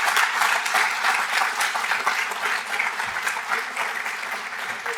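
Sustained applause from the audience at a press conference for the West North Avenue Development Authority, steady dense clapping holding at an even level for the whole stretch with no voices over it.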